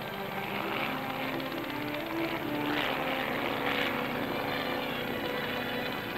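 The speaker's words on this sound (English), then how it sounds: "Among the many missions performed by the Navy helicopters" Steady, loud rotor and engine drone of a U.S. Navy helicopter, continuous throughout with a slight rise and fall in intensity.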